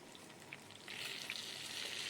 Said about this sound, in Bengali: ঢাকা দিয়ে দিয়ে ভাজবে তাহলে তাড়াতাড়ি নরম হয়ে যাবে পটলটা